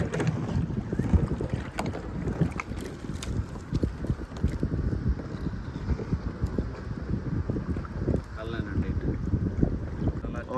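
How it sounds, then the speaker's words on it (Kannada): Heavy wind blows across open water around a small fishing boat, buffeting the microphone with a constant rough rumble and choppy splashing, loud and close throughout. "ಬಿಕಾಸ್ ಒಂದು ಹೆವಿ ವಿಂಡ್ ಉಂಟು"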